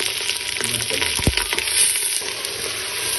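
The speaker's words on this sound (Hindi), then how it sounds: "अब इस मौके के ऊपर इसमें हमने चिकन ऐड कर देना है। चिकन भी साथ में फ्राई हो जाएगा।" Chicken pieces fry with onions in hot oil for Karachi biryani, a dense close sizzle with stirring scrapes and a brief clatter midway, no talk over it.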